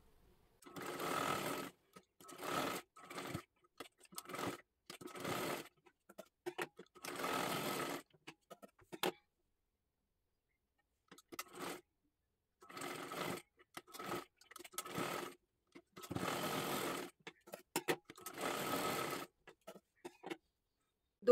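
A sewing machine double-stitches a blouse shoulder seam in close, repeated bursts of rapid stitching separated by short pauses, with no talking.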